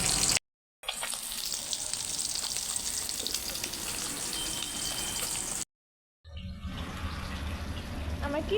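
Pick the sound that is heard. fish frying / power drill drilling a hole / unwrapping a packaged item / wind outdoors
fish frying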